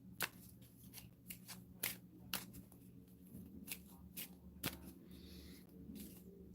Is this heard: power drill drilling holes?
no